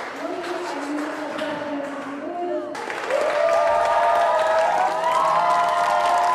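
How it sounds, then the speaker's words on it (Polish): Audience applause at a school teen beauty pageant, a steady roar of clapping and crowd noise that swells louder partway through, with a voice and music running over it. "jeszcze raz wielkie brawa"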